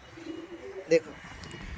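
Madrasi pigeons coo faintly in the background, with a low murmuring call early on and a single short, louder note near the middle.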